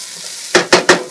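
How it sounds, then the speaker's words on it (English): Onions and peppers saute in hot oil in a pan: a steady sizzle underneath three loud, rhythmic stirring scrapes that come close together, with no talking. "So now what I'm doing is saute my onions and peppers a little bit"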